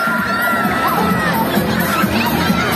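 Children and adults shout and cheer loudly and continuously at a father-and-daughter competition at a Turkish family event, with excited high voices layered over a steady crowd din.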